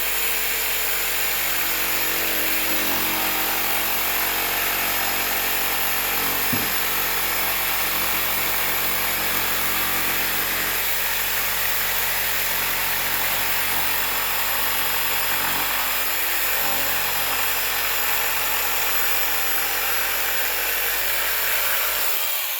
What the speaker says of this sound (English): I'm going to turn this on.